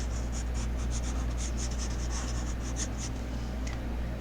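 Pencil scratching across paper in quick, continuous gesture-drawing strokes, a steady soft rasp with rhythmic bursts over a low background hum.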